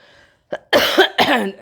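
A woman coughs several times in quick bursts, close and fairly loud, each cough harsh and throaty, the kind of cough brought on by cold winter air thick with pollution, dust and smoke.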